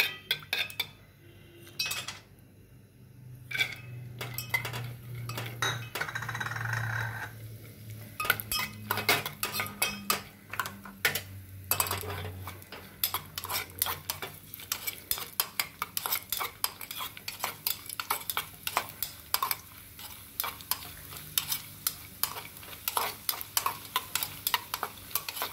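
Dry fruits frying in melted ghee in a pan while being stirred, with a steady sizzle under frequent metallic scrapes and clinks of a spoon against the pan, close and continuous.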